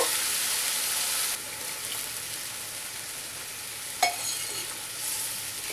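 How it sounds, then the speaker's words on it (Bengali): Ground masala sautéing in a pan for Bengali katla fish kalia over a medium flame, giving a steady close sizzle that drops slightly in level partway through, with a brief scrape of stirring. "দু থেকে 3 মিনিট পর্যন্ত আমি কষিয়ে নেব"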